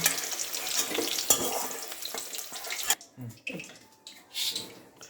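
Flat beans frying in a pan without salt, a crackling sizzle under stirring for about three seconds, then quieter scattered scrapes and spatters as the pan noise drops away.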